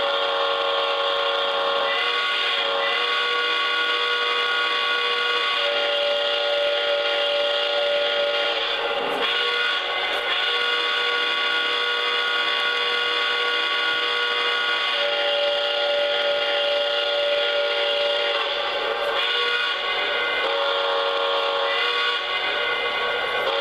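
A Lionel Legacy AT&SF Northern #3757 model steam locomotive plays its sound-system steam whistle, a loud sustained chorded tone sounded in several long blasts with breathy steam hiss between, no voices.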